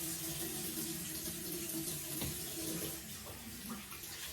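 A sink tap runs steadily for hand washing before a face wash, a continuous hissing gush of water splashing into the basin with faint shifting tones, heard alone without speech.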